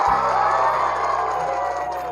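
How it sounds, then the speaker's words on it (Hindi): A crowd at a school Independence Day program cheers and claps in a steady, moderately loud wash of noise, with a thin tonal hum running underneath. "तो जोरदार इस पर ताली लगाइए आप लोग"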